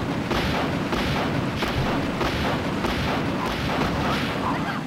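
Dense, steady gunfire and booming shots in Resident Evil, playing with Jill, forming a continuous loud wash of shots and impacts with faint voice underneath throughout.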